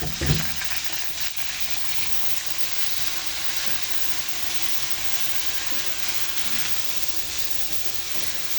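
Boiled, softened chicken feet from the freezer frying in a pan for a spicy dish, a continuous dense sizzle after an initial clatter as they go in, with no talking.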